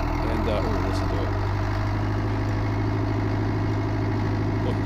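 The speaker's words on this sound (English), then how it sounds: "So basically fired up the Case 995, and listen to" A Case 995 tractor engine idles at night on a farm, a steady low rumble with constant vibration that stays loud and close throughout, with no other sounds breaking through.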